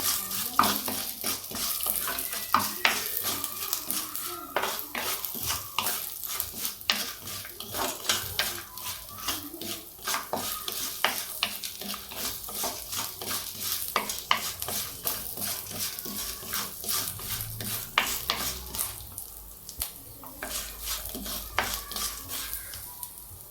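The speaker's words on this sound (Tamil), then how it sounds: "கருப்பு உளுந்து இதையெல்லாம் போட்டு ஒன்றா வறுத்துக்கலாம்." Black urad dal, ginger and other ingredients dry roasting in a pan, with a steady, close, continuous rattle and scrape of stirring and a faint sizzle throughout.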